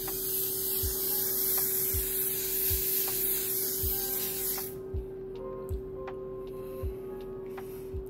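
Makeup setting spray misted onto a face, a loud hissing spray lasting several seconds and then stopping, with faint rhythmic thumps and a steady low hum underneath.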